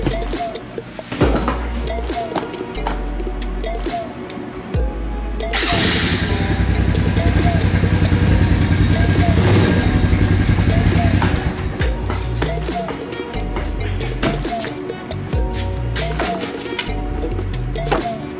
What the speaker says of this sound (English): so I'm gonna ride the four-wheeler